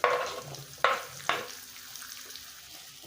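Onion and capsicum pieces fry in a pan for a Chicken Manchurian, a steady close sizzle broken by three sharp scraping stirs early on, then settling into a quieter hiss.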